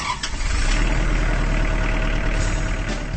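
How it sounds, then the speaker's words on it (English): A Kubota Standard L compact tractor's diesel engine chugs steadily at idle, a deep continuous rumble close by with no one speaking. "That's the sound of a Kubota Standard L compact tractor"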